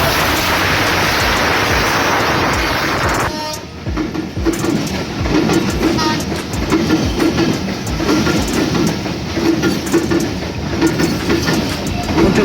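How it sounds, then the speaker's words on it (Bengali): Banglabandha Express, drawn by an American 66-4 series locomotive, rolls into Raninagar railway station on line 1; loud, continuous near rumble of wheels and cars with rhythmic clacking, a sharp shift in tone partway through as it passes. "রাজশাহীগামী Banglabandha express Raninagar rail station 1 নম্বর লাইন দিয়ে এই মুহূর্তে প্রবেশ করছে"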